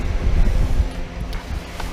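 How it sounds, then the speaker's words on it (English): Electric fan blowing close to the mic in a hot, humid garage, a steady low rumbling whoosh with buffeting wind noise that runs the whole time. "Sorry for the noise, but I got my fan on me."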